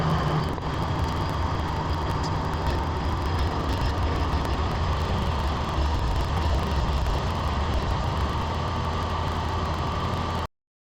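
An old JLG manlift engine, under repair, runs at full throttle with a loud, steady mechanical drone close by, then cuts off abruptly at the end.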